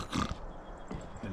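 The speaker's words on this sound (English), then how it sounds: "Ukrainian pigs." Young pigs grunting and oinking at a Ukrainian festival in Canada, a few short snorts close by over a low murmur of crowd noise.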